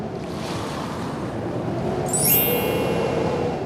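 Large sea waves roar in a steady, dense wash of surf in a cartoon story, with a brief bright whistling tone rising above the waves near the end.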